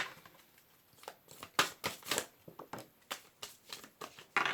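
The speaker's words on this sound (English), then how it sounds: "last shuffle." Tarot cards being shuffled close up, a series of quick papery riffles and flicks in an irregular rhythm.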